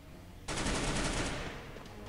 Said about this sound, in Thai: จังหวะนี้ก็ยิงไปก่อนเอ้ยยิง